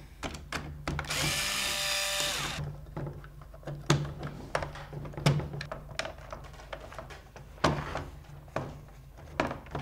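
Screws come out of the grip of a Nerf CS-18 Alpha Trooper blaster, with a steady whirring drive lasting about two seconds, followed by a series of sharp plastic clicks and rattles from handling the parts.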